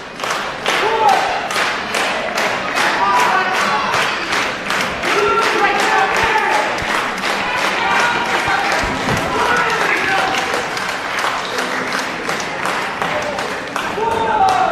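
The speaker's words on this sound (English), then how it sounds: "crowd rallying behind the champ" A wrestling show crowd roars and claps steadily, a dense wall of cheering and applause with thuds from the ring, loud and continuous throughout.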